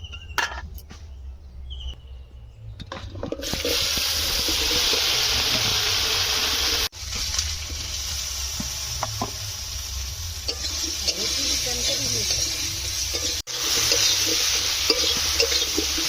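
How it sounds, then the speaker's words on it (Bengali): Okra hits oil left over from frying rohu fish and sizzles in a loud, steady hiss that holds for the rest of the clip, with a couple of brief dropouts and no talking. "ওই মাছ ভাজার তেল নিয়ে আমি ঢেঁড়সটা ভেজে নেবো"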